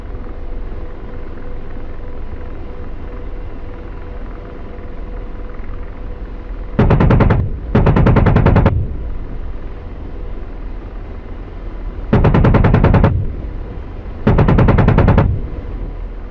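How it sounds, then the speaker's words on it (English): Enemy ISVs open up with rapid automatic gunfire in the DCS AH-64D Apache combat sim, four loud, distinct bursts of about a second each over a constant helicopter engine and rotor drone. "those ISVs aren't letting up. They keep firing at us"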